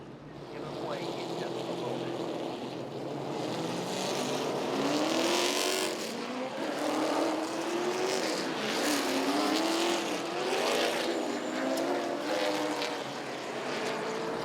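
Late model race cars roar around the Southside Speedway oval at night, a dense, continuous wash of engines swelling and passing in waves, with an announcer talking over the din.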